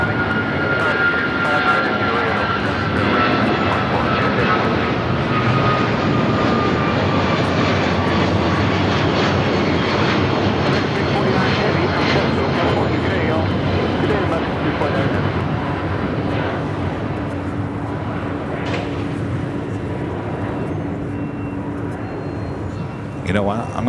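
An American Airlines Boeing 777-200ER jet takes off from runway 25 right at LAX, a loud sustained engine roar filling the air throughout while people talk over it.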